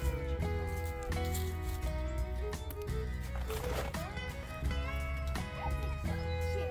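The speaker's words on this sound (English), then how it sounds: "Isn't that a cute chicken?" Hens clucking around a mobile chicken coop, short repeated clucks mixed into a steady bed of tonal background music that runs the whole time.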